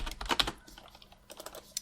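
Code is typed on a computer keyboard in quick clusters of light, close key clicks, a burst of taps, a short pause, then another flurry of keystrokes, with no voices.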